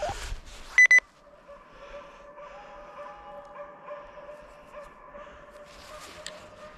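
A hunting dog bays and whines far off during a driven hunt, a faint drawn-out tonal yelping that carries across open country after a sharp electronic beep.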